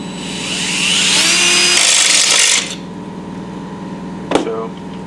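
A step drill bores through thin sheet metal for a rib nut during Mustang sheet metal work, a loud high grinding whine for about two and a half seconds, then a quieter hum and a short sharp clink.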